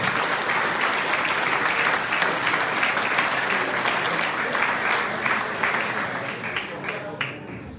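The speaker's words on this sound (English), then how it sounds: "Ladies and gentlemen, would you please give a big applause to Emma Brennan, Junior Sportsperson of the Year." An awards-ceremony audience claps loudly and steadily to honour a junior sportsperson, a dense wash of many hands that fades slightly toward the end.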